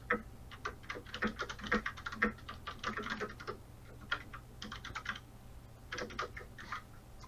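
Fast typing on a computer keyboard, quiet and slightly distant, coming in bursts of rapid clicks with brief pauses between runs; no voices.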